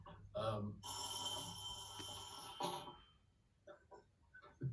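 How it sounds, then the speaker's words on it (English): A telephone bell rings steadily in a room for about two seconds, loud and close, with people talking before and after it. "Somebody's supposed to get the phone"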